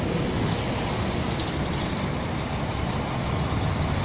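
Águia Branca intercity bus pulling out of its garage on the BR-262 in Cariacica, a steady loud diesel engine rumble with broadband road noise throughout and no voices.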